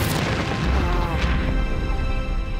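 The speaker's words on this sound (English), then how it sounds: "So taking a smoothie bomb to the face is the least I can do for Jess." A smoothie bomb bursting onto someone's face during a Big Brother veto competition, a loud, sustained, boom-like splattering burst that fills the whole moment.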